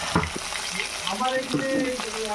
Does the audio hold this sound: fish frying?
yes